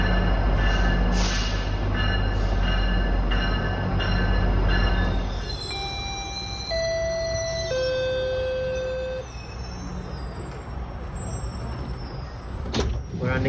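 Rumbling interior of a moving GO commuter train on the Kitchener line, with a low steady roar, rattling, and a series of rising electronic tones sounding partway through.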